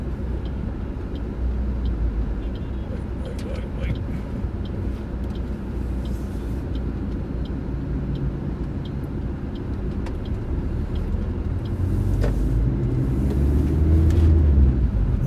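A 2013 Maruti Suzuki Ertiga is driven and accelerated on the road, its engine and tyre rumble steady and close, swelling louder toward the end.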